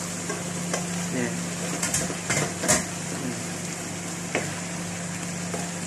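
Crushed tomatoes hiss and sizzle in a hot frying pan while a utensil scrapes and clacks against the metal in irregular strokes, giving a steady frying bed close up with no talking.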